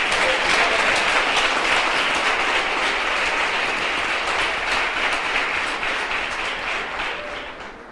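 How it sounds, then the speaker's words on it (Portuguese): A church congregation at a Portuguese-language sermon breaks into sustained applause, a dense, even roar of clapping that slowly fades toward the end. "Você pode aplaudir o Eterno."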